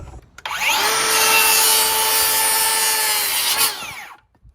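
A power saw cuts through a piece of lumber for a deck stair jig: a loud, steady high-pitched whine for about three seconds, then it stops abruptly.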